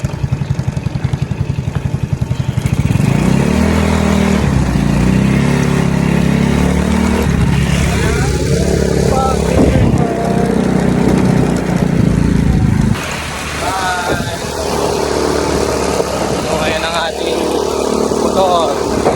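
A delivery motorcycle's engine runs steadily and loud throughout the ride, with a shift in tone partway through as it changes pace and a voice talking over it.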